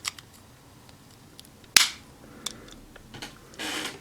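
A plastic KishiRyuOh toy robot's cannon parts snap into place with one sharp click, followed by a few fainter taps and a short rustling scrape near the end, all close and isolated.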